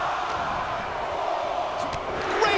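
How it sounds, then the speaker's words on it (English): A dense arena crowd in the WWE 2K23 wrestling video game cheers and roars steadily throughout, a broad continuous wash of noise with faint shouts rising near the end. "Just listen to the crowd."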